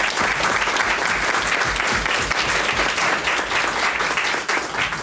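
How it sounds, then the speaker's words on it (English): A loud, dense audience applause fills the room at a community gathering at El Centro, a steady wash of clapping sustained throughout without pause. "Now that you've finished applauding loudly"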